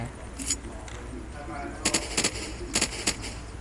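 Bursts of gunfire from the video game Unturned, several short rapid volleys in quick succession at moderate distance over a steady background hum.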